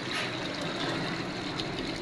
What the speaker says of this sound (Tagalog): Malakas lagi ang tulo dito. Malakas ang patubig na yan.